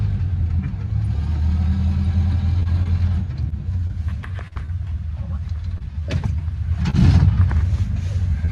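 A vintage snowmobile engine runs steadily while being driven, a loud, continuous mid-pitched drone with a rougher swell near the end.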